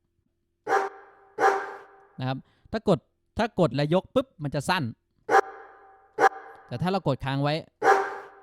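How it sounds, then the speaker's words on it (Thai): A dog-bark sample in GarageBand plays a few short, tonal barks, some cut short and some held longer, mixed in among someone speaking Thai in a quiet room. "มั นจะเป็นเสียงบักเสียงบักก็คือเสียงหมาเห่าเนาะ"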